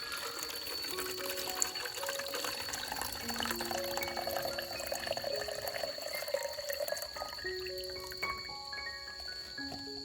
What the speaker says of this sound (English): Using a sieve to filter is very convenient.